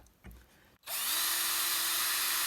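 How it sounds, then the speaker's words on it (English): A power drill boring through a plastic drawer, a short faint knock first, then the motor cutting in and holding a loud, steady whine to the end. "It's drilling through a little slowly."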